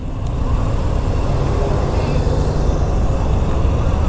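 A Moto Guzzi V7 Stone motorcycle engine runs during a ride, giving a steady, buzzy drone mixed with road and wind noise, loud and continuous throughout.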